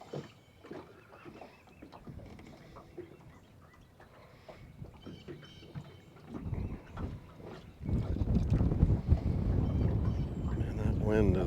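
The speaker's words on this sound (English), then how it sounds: "that wind is just not really coming any direction. It's coming in different directions" Gusty wind buffets the microphone from shifting directions on open water while fishing from a boat, growing louder and rougher in the second half, with a voice talking over it.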